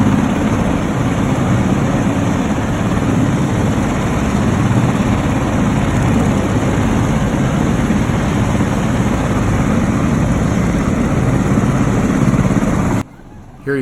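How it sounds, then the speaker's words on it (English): A Black Hawk helicopter landing in downtown Los Angeles during a special forces raid makes a loud, close, steady roar of rotor and engine noise that holds for about thirteen seconds before cutting off abruptly. "Here you can see a second Blackhawk helicopter coming into land."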